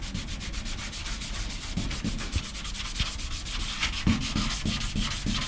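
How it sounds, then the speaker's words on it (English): An old Scotch-Brite pad on a Velcro sanding pad scrubs a Sierra Sapphire car body shell, making steady, close rhythmic rasping strokes with no voices. "scrubbing things down. An old Scotch-Brite and an old Velcro sanding pad"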